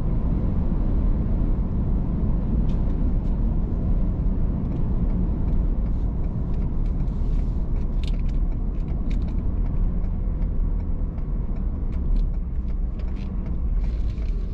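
Vehicle in a farming video game rolling up to a farm, heard as a steady loud engine rumble and road drone with faint clicks and rattles over the top.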